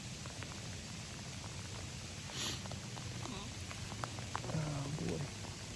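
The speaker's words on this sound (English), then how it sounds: "Weather update. Yep, it's raining." Rain patters steadily in the background with a constant hiss, while a few brief faint voice sounds and small bumps surface near the end.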